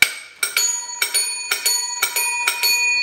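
A bright metallic gong on an 1882 Bayliss Thomas Excelsior tandem tricycle rings in quick pairs of strikes, repeated several times, each ring decaying into a short shimmer; close and clear, no voices.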